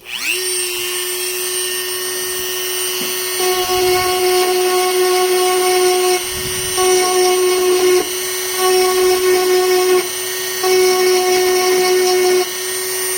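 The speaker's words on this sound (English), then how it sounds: "So now I'll go deep into these spots and remove the remaining of the rust." Power tool grinding rust off deep spots in metal, a loud continuous high whine running throughout, rising in pitch in short repeated bursts as it bites into the surface, with no talking.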